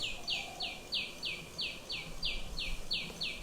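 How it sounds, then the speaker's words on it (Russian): A tiny sunbird calls in a fast, regular series of about a dozen thin, high chirps, each sliding downward, clear and fairly close over faint background noise. "The bird making that sound is a little tiny sunbird"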